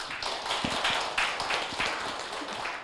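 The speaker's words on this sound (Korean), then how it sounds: "박수로 맞아주시기 바랍니다" Audience clapping to welcome a guest at a literary talk event about a long-running reading group, a steady patter of hands close by, moderately loud and continuing without speech.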